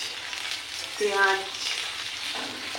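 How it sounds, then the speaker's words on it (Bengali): Onions dropped into hot oil in a pan, a close, even sizzle with stirring clatter and a short tonal clink midway. "গরম তেল, তার মধ্যে দিয়ে দিলাম পেঁয়াজ"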